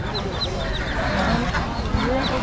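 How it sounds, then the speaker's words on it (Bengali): Ducks and chickens at a busy village poultry market in Mymensingh, Bangladesh, repeated quacks and clucks close by over a steady crowd murmur, with a person talking through it. "দেখুন এখানে অনেক হাঁস মুরগি কিন্তু নিয়ে এসেছেন"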